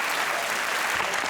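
Studio audience applause at a TV comedy panel show, a dense, steady burst of clapping filling the short moment.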